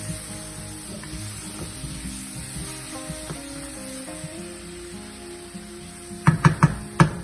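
Pav bhaji masala stirred in a hot pan, a soft continuous sizzle under background hum, ending with several sharp spoon knocks and scrapes against the pan; no talking.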